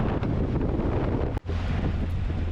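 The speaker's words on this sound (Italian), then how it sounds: "qui sono quasi certo che il vento non manca mai" Steady, heavy wind in Ireland roars across the microphone in a constant low rumble, with one brief dropout midway.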